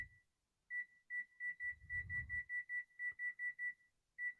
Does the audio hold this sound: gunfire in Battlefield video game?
no